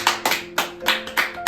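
A small group claps in rhythm at an evening session of a Bible doctrine school camp, six or so quick, close, even claps with a faint tone lingering underneath.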